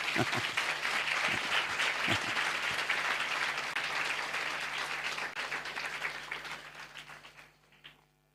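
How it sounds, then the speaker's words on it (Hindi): A church congregation at a Christmas service claps in thanks, a sustained dense round of applause with a few sharper claps near the start that gradually fades away toward the end. "ताली बजाकर प्रभु को धन्यवाद दीजिए।"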